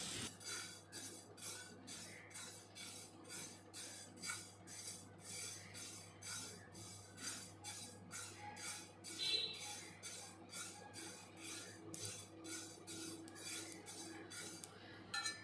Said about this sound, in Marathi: इकडे तुम्ही बघत असाल तिळाला सुद्धा चटत चटत असा आवाज येत आहे।